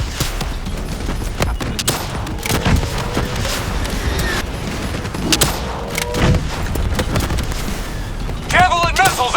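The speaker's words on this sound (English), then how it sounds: "Javelin missiles incoming!" Javelin missile strikes in the Call of Duty: Black Ops 3 mission "Demon Within": a dense barrage of booming impacts and gunfire that runs continuously, with heavier blasts spaced through it and a voice talking over the din.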